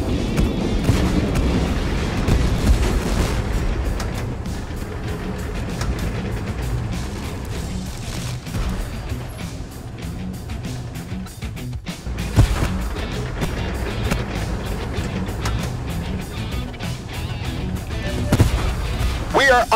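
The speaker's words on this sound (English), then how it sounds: "We are under bombardment." Artillery bombardment in the tank battle game Tank Force, a dense rumbling wash of distant booms and explosions running steadily throughout, with a sharper blast near the middle and voices talking underneath.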